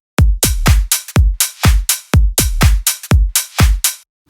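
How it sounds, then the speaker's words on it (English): A punchy drum loop plays alone, with loud, close kicks and snappy hits in a tight repeating pattern of about a dozen strikes with sharp gaps between them. "So right now I got this drum loop I put together in front of me."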